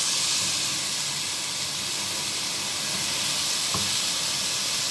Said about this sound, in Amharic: እንደዚህ እየተቆላላ ነው ሽንኩርቱ